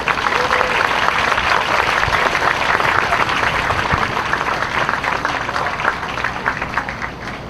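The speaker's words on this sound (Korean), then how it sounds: "회장님 나오실 때 박수로 크게 맞아주시길 바라겠습니다" A large crowd of resident doctors rallying in Yeouido applauds loudly as the Korean Medical Association president comes up, a thick, sustained roar of clapping that holds steady throughout and eases slightly at the end.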